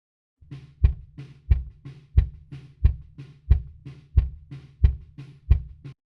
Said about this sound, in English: So let's have a listen to the kick in microphone.